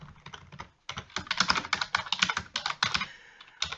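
Rapid typing on a computer keyboard, a dense run of close, clicky keystrokes with a brief pause near the start and irregular bursts throughout, heard alone.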